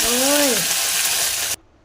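Tempering spices with asafoetida sizzle loudly in hot oil for a lentil dal, a dense continuous crackle lasting about a second and a half before stopping abruptly.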